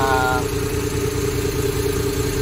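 A motorcycle engine with a hard-starting, low-power misfiring fault runs steadily and close up, a continuous low drone with an engine hum throughout and no clear rise in revs.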